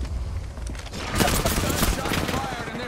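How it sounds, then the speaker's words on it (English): Gunfire in the Apex Legends video game, a dense burst of rapid shots crackling over a steady game soundscape, with talk mixed in alongside the shooting. "Gunshot fired and they're hitting me."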